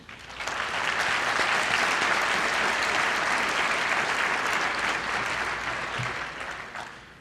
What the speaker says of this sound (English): Let's give them a round of applause for all they do for our organization.